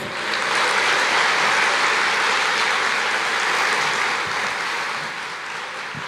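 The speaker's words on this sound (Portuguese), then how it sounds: "Você pode aplaudir o Senhor" A church congregation applauds in steady, dense clapping that holds loud for about five seconds, then eases slightly toward the end.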